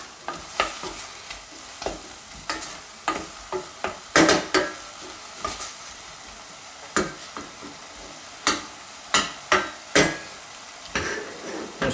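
Cèpes mushrooms sautéing in a pan, a soft sizzle broken by a dozen or so sharp spatula scrapes and taps at irregular intervals, close and without voices.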